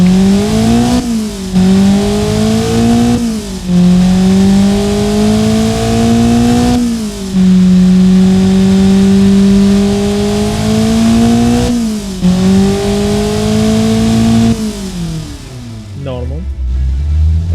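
A Honda D16Z6 engine with VTEC, modeled in the Automation video game, holds a steady mid-pitched drone and rises and falls in several revs, ending with a quick drop. It is loud and continuous, and someone talks over it.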